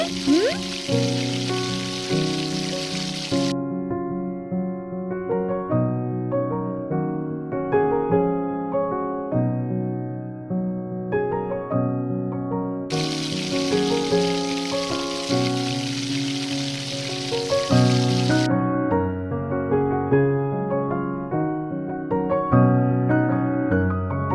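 Teler pitha, oil-fried Bengali cakes, sizzle in hot oil in a home kitchen. A bright hissing crackle comes and goes in long stretches beneath steady, prominent background music.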